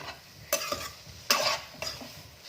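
Paneer cubes fry in butter and oil for palak paneer, three sharp stirring scrapes rising over a soft, steady sizzle, close by and without any voices.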